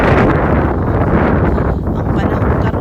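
Strong, cool wind in a park buffets the microphone as a steady, loud roar of broadband rushing noise, with no talk heard.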